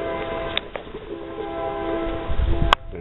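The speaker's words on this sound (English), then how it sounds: "There's that train. We got freight trains going back and forth" A freight train horn sounds a long, steady blast in the distance, accompanied by the low rumble of rolling cars.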